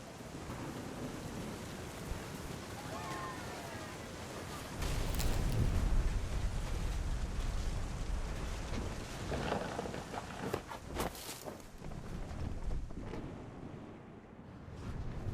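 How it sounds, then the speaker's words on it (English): Thunder and steady rain in the video game What Remains of Edith Finch: a continuous rain hiss with a deep rumble swelling partway through, followed by crackling bursts, with no talk. "The thunder sounded much too close and full of angry power"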